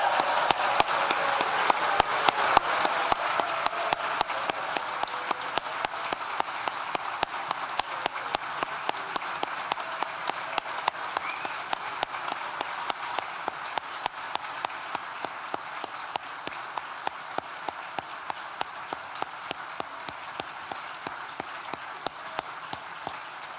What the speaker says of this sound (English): one last opportunity for the loudest clap and cheer that you can muster for our amazing graduates